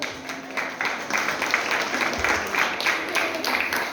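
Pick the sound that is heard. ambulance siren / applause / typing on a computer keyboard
applause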